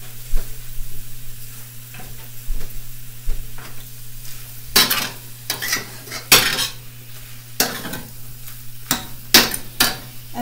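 Food stirred in a skillet with utensils while cooking romesco shrimp and couscous: repeated metallic scrapes and clinks of a utensil against the pan over a steady sizzle, close and fairly loud.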